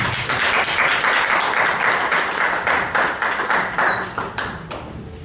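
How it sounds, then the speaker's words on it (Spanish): An audience at a university forum applauds as a speaker comes up, a dense, steady burst of clapping that loosens into scattered claps before tapering off. "Recibámoslo pues con fuertes aplausos"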